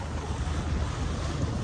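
Steady rush of wind across the microphone with waves washing against a yacht's hull at sea off Subic, Zambales, loud and continuous, no voices.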